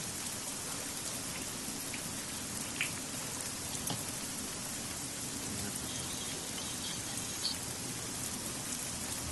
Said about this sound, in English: This is the best rain ever made by man. Man-made rain.